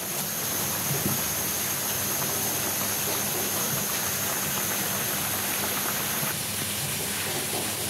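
Koi fish curry with taro simmers in a pot, giving a steady, dense hiss and bubbling that holds level throughout, with a faint high whine fading near the end and no talking.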